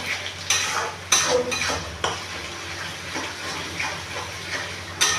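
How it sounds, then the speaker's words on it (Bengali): Chicken with ginger paste and chopped garlic frying in a pan, stirred with a metal spatula in repeated scraping strokes over a low sizzle, close up with no talking. "আবার নাড়ছে।"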